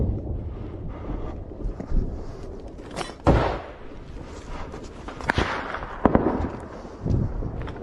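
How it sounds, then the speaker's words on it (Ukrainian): Gunfire during the battle of Bakhmut, several sharp cracks and bangs scattered irregularly over wind buffeting on the microphone, some close and loud, others more distant. "Пацаны, оттуда по нам работает прострел"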